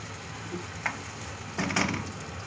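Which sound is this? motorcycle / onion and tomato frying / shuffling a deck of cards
onion and tomato frying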